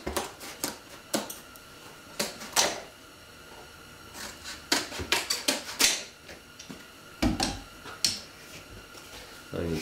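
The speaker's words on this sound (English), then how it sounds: "we'll get our shears and we'll just cut up a couple more strips" Shears snip through strips of paper for a mason bee nesting cartridge, giving a quiet, irregular series of sharp crisp cuts and clicks, close up with small pauses between snips.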